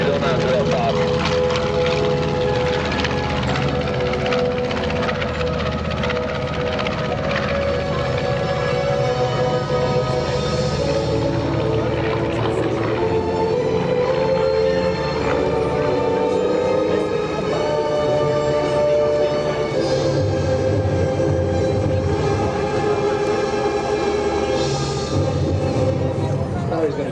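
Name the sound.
B-25 bomber propeller aircraft flying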